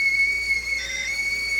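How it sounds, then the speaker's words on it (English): A teapot whistles steadily as water boils for coffee, one sustained high tone that holds close and loud for the whole moment with no talk over it. "As you see, the water is boiling hot. It's whistling for me."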